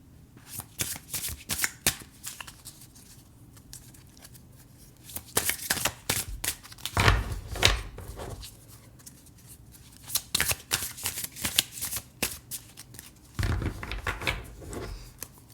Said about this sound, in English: These cards are a bit harder to shuffle because of the material that's used